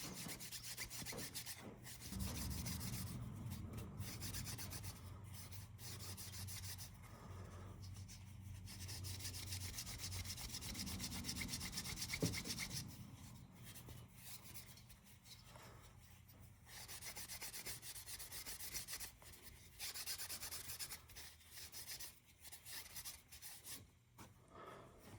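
Nevr-Dull polish is rubbed onto the brass bolsters of an old Schrade knife, a faint, continuous rasping scrub in uneven back-and-forth strokes with short pauses.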